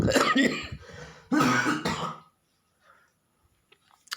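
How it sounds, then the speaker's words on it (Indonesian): Someone coughs and clears their throat in two loud bursts close to the microphone, followed by near silence with faint small noises. "maaf guys, batuk"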